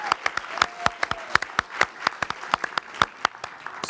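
Audience applause of a small group comes as sparse, separate claps at an irregular rhythm, fairly close and clear with no talking over them.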